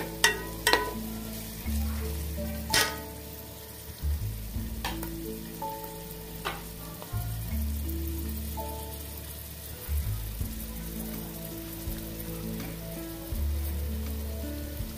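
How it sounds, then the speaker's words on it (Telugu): Ginger garlic paste frying and being stirred in a pan for Andhra-style fish curry, a continuous crackling sizzle broken by repeated clanks and scrapes of a spoon against the pan, close and with no talk. "దీన్ని కొద్దిగా లైట్గా కలుపుకొని మనం అల్లం వెల్లుల్లి పేస్ట్ వేసుకుందాం."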